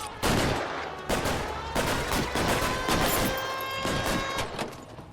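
Gunfire rings out in the LA Noire video game, several loud sharp shots in an irregular series of bursts with ringing tails, close and unbroken by talk.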